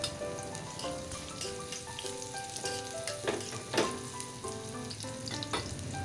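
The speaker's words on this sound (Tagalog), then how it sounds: "Ngayon gigisa ko lang yung kaunti nating bawang at sibuyas." Garlic and onion sauté in a pan for a mami noodle soup, giving a busy, crackling sizzle like light rain, steady and close, with faint tonal hums underneath.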